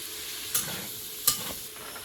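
Potatoes fry in a pan with green chillies and tomatoes, giving a steady soft sizzle with two brief sharp clinks from stirring.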